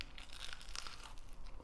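Short crunchy bites into crispy fried Indonesian food such as fried tempe, heard as close, quiet crackling crunches.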